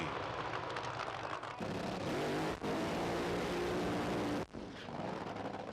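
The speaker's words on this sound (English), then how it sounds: "Harlan Thompson lights up those back tyres, smoking his way over 30 or 40 yards of the first part of the drag strip" A Trans Am drag car doing a smoky burnout on a drag strip at a 1986 Santa Pod meeting, its engine roaring at high revs in a loud, continuous wail with brief dips, alone.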